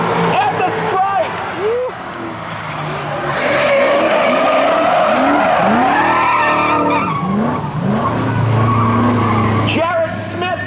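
Tires squeal loudly as a drag race car gets loose and spins out at Seekonk Speedway during spectator drags, a long wavering screech rising and falling over engine roar, with a commentator talking over it.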